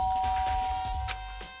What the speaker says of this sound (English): I place my finger on the bell.